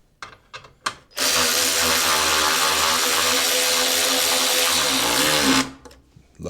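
A power tool tightening Torx bolts during final assembly of a 2003 Polaris Sportsman 700 ATV: a few short clicks, then one loud, sustained whirring run of about four seconds that winds down at the end.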